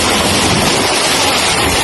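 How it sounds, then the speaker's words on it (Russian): A waterfall roars as a steady, loud broadband rush of falling water, heard close up from a boat with no talking. "Вот так работает этот водопад."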